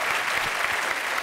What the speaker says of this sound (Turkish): Alkış alalım Baran'a.